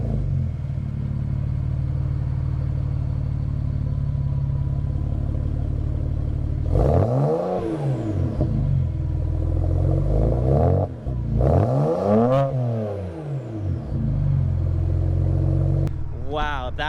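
A BMW N54 535xi with a custom quad exhaust idles at a steady deep rumble, then gets blipped into three sharp revs that rise and fall back, the last one brief near the end, loud and close.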